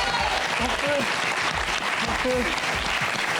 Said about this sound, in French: on va applaudir toute notre équipe qui s'est battue pour vous